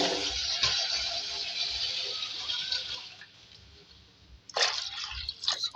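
Water, three glasses' worth, is poured into a cooking pan holding a spoonful of garlic paste for a dal with spinach and fenugreek. It makes a steady splashing pour that fades partway through, then some brief sloshing and clinks near the end.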